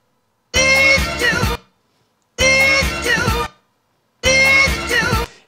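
Sample of a soul song, played in a changed key: three short musical phrases, each about a second long, with silent gaps between them.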